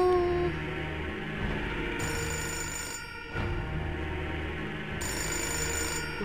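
A telephone rings in a church setting in a video game, repeated electronic bursts of bell-like tones, with clear gaps between rings, steady and fairly loud over a low ambient hum.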